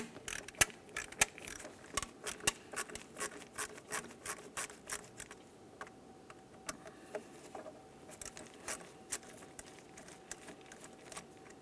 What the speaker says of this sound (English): Now we can start removing our two Phillips heads.